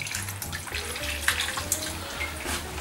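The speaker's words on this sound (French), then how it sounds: "je vais ajouter encore un peu de vin blanc dans notre plat" White wine poured from a bottle into a roasting dish holding a peppered pork porchetta, a steady close liquid trickle and splash running throughout with small clinks and no talk.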